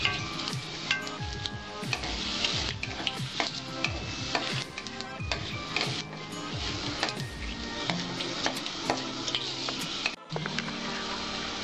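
Bay leaf and five-spice seeds crackle and sizzle in hot oil for a Bengali vegetarian labra, a steady busy frying hiss with frequent sharp pops and stirring clatter throughout, close and fairly loud, no talking.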